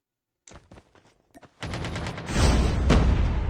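Sustained automatic AK-47 fire in a battle royale video game erupts after a few scattered shots, with loud continuous bursts dominating the last two seconds.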